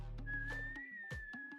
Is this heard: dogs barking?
no